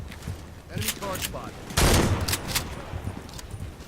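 Short bursts of full-auto fire from a USMC weapon in a Battlefield video game, several quick volleys with the loudest burst in the middle, sharp and close over steady background noise.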